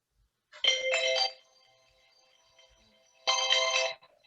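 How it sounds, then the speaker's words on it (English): Mobile phone ringtone sounding in an office-hours session, two short bright melodic bursts about three seconds apart, clear and fairly close, with quiet between them and no talking. "Sorry, that was my phone."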